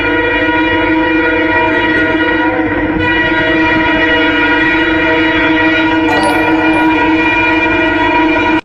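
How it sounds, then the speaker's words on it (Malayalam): A Vande Bharat express train races past at over 160 km/h. A loud, steady, horn-like tonal drone runs through the whole stretch over a constant rumble, with no voices. "Vande Bharat at 160+ speed"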